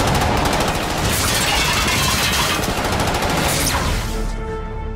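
Rapid automatic gunfire from a televised superhero fight scene, loud and dense bursts of close shots rattling continuously before tapering off near the end, with no voices over it.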